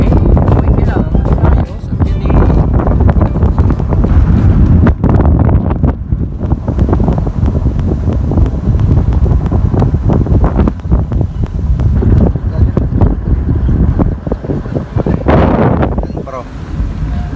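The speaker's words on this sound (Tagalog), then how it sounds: "malakas ang hangin" Strong wind buffets the microphone outdoors at a tourist spot in Tiaong, Quezon, with loud, continuous rumbling gusts, while people talk underneath.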